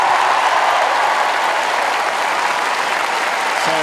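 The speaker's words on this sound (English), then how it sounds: "So, tremendous applause for a very brave fight from the British number one" Crowd applause for the runner-up at the 1999 Queen's Club tennis final, a dense, loud, continuous wash of clapping from a large stadium audience throughout.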